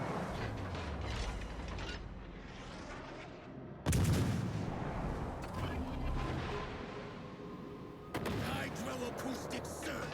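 Armor-piercing shell fire in World of Warships Legends, with heavy booming salvos landing in two sharp bursts over a rumbling, mechanical game background while someone talks throughout.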